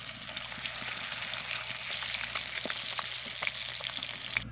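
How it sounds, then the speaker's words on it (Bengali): Bata fish fry in hot oil in a pan, a steady low sizzle with scattered sharp pops and crackles, fairly quiet and without any voices. "এই মাছগুলো ভাজা হয়ে গেছে,"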